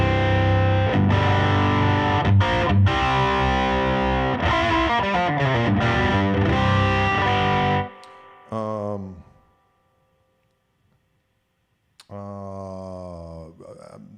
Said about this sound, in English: I'm on the lead channel with the overdrive boost on with just a little bit of reverb.